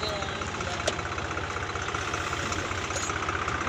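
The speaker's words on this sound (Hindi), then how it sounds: "ट्रैक्टर आ रहा है पीछे से" A tractor engine rumbles steadily from behind on a roadside where a vehicle is stuck, a continuous low idling drone with faint knocking, fairly close.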